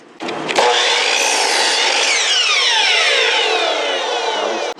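A hand saw cuts a board of wood to length for building an altar stand, one steady continuous stroke of rasping sawing that runs nearly five seconds, loud and close with no talk.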